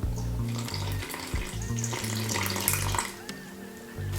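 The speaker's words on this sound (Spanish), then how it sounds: "Entonces, vamos a poner el resto del agua" The rest of the water is poured into Venezuelan ham bread dough in a steady running stream, over continuous background music.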